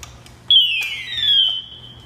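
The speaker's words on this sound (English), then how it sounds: "You hear power down, it disconnects there, it means I'm disconnected." SCBA breathing apparatus sounding its power-down alarm on disconnecting: a single shrill, high electronic tone that glides slightly downward and holds for about a second, clear and close over faint background noise.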